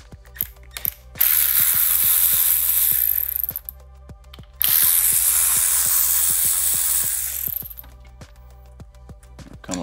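A ratchet clicks in quick, regular strokes while backing out T20 bolts from the switch cover on an Indian motorcycle handlebar, with two longer bursts of hissing noise between the runs of clicks.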